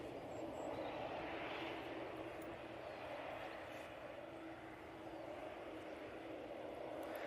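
A jet airliner on approach to land at Manchester Airport in a crosswind, its engines giving a steady broadband roar at moderate distance that stays fairly even throughout, without anyone talking.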